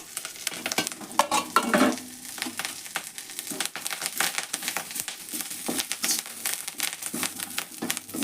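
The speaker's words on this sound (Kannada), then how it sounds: "ಎಣ್ಣೆ ಒಳಗೆ ನಾನು ಕರಿಬೇವು ಹಾಕಿ ಹುರಿತೀನಿ" Curry leaves crackling in hot oil while garam masala is prepared at home, with irregular pops and crinkly spatters over a soft hiss, close and moderately loud, broken by clinks of stirring and no talking.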